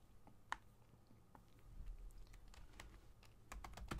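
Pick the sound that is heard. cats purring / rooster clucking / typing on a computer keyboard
typing on a computer keyboard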